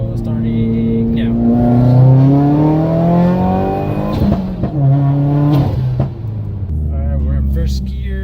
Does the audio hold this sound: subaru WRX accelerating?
yes